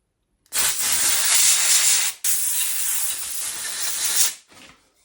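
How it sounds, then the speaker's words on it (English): Brake cleaner sprays onto a Yamaha TT600R motorcycle petcock in two loud, close aerosol hisses, the first about two seconds, a brief gap, then a second burst of similar length tapering off. "and then I will use brake cleaner."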